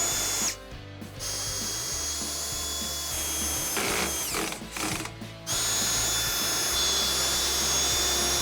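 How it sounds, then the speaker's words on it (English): A power drill whines loudly and continuously, its pitch dipping briefly as it bites in, then revving up again, pre-drilling holes with a 1/8-inch bit on a 1995-2004 Toyota Tacoma during trailer wiring installation. "mark out 2 holes that you can pre-drill with a 1/8 drill"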